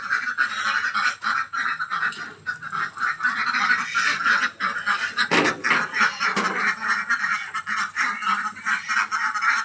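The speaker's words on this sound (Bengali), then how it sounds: "সকালবেলা হাঁসগুলো ছেড়ে দিলাম।" Ducks let out in the morning quack and honk in a busy, overlapping chorus close by, with rapid repeated calls running throughout and no clear speech.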